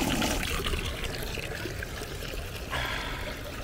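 Water runs from a public drinking fountain in Vatican City as a bottle is filled, a close splashing, trickling stream with outdoor background noise.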